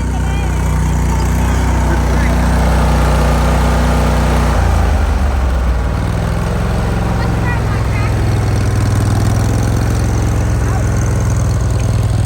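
A fast tractor with poor brakes runs loudly and close, its engine droning steadily and shifting tone partway through.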